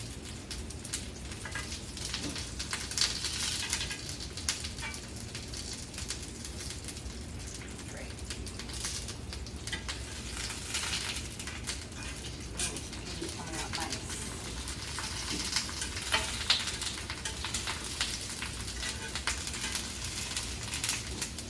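Zucchini and small tomatoes sizzle steadily on a grill for a Mediterranean salad, a continuous crackling hiss that stays even throughout with no talk over it.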